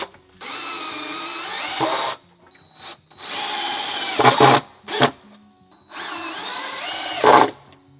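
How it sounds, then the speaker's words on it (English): Power drill driving screws into pre-drilled pocket holes in wood while building a cattle panel garden tunnel; three sustained whirring bursts of a couple of seconds each, close and loud, with short pauses between. "I'm going to go ahead and just put these screws in there"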